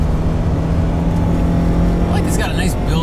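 A Mercedes 190E 2.3 16v engine drones steadily from inside the moving car, building slightly under ongoing conversation.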